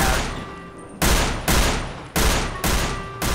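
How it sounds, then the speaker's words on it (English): Loud single gunshots from a weak in-game gun in Prison Simulator, five sharp cracks spaced roughly half a second to a second apart, each followed by a decaying tail, with no talking. "How many shots are you going to miss before you give up?"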